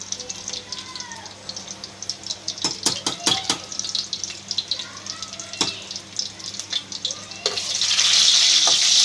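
Mustard seeds, chillies, garlic, cumin and urad dal go into hot oil for a tempering, with light clinks and stirring first, then a loud, steady sizzle rising at the end, close up.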